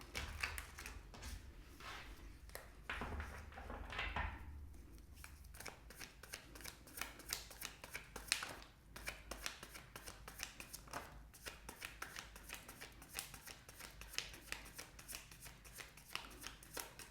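Tarot cards are shuffled repeatedly in a fast, crisp riffling rhythm, close and quiet, continuing steadily with no talking.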